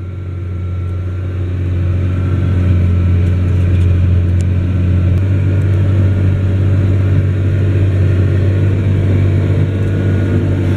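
A Challenger MT 765 C crawler tractor, a 360-horsepower machine, gives a loud, steady low engine rumble that swells over the first couple of seconds and then holds an even, throbbing drone.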